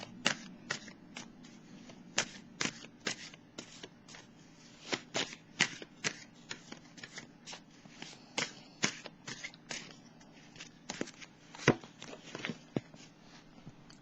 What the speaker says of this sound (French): Je vais piger une carte ici pour le Sagittaire.